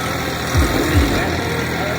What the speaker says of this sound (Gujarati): ટ્રેક્ટર ચાલુ છે. જુઓ તો ટ્રેક્ટર સરસ છે.